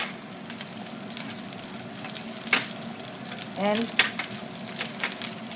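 Eggplant fried rice frying in a little butter in a pan, with a steady moderate sizzle, occasional stirring scrapes and clinks, and a brief voice in the background.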